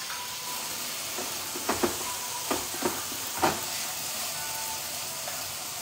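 Vegetable curry stirred in a hot pan over a steady sizzle, with a short run of distinct spoon scrapes and knocks in the middle; close and moderately loud, no talking.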